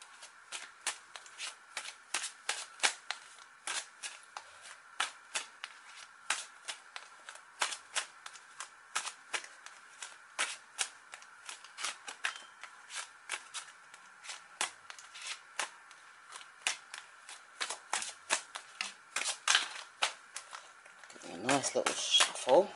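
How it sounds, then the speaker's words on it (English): Rapid, crisp riffling of tarot cards being shuffled repeatedly in close bursts, with a brief muffled handling noise at the end. "let me give these cards a good shuffle."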